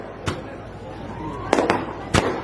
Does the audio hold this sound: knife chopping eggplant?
no